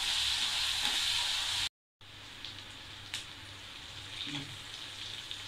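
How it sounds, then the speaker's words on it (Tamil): Onions, green chilies, curry leaves and salt sauté in a pan for onion fried rice, giving a steady bright hiss of frying that breaks off for a moment and then resumes at moderate level. "பச்சை மிளகாய், உப்பு எல்லாத்தையும் நல்லா வதக்கிக்கணும்."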